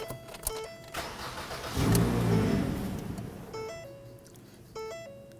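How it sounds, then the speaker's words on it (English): A 2008-2011 Ford Focus engine cranks and catches with a rising roar, then settles into a steady idle while chime-like electronic beeps sound over it. "Let's go ahead and start the vehicle."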